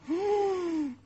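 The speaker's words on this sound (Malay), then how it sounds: "Kita tarik nafas." A single sharp, audible breath drawn in during Quranic recitation (tarannum) practice, a rising then steady wheezy tone lasting about a second, close and clear with no talk.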